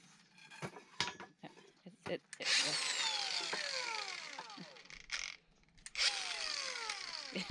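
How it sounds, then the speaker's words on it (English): An angle grinder on an off-grid homestead keeps cutting out and restarting, with two whining runs that spin down as the power drops, between short clicks and knocks, while people talk nearby. "So the grinder remains stoppy-starty"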